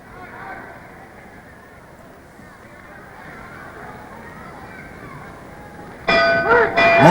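A round-ending gong rings out at a vintage boxing match, Emile Griffith versus Benny "Kid" Paret, arriving suddenly and loud after a long stretch of crowd noise and ringside commentary, its bright metallic tone ringing on to the end.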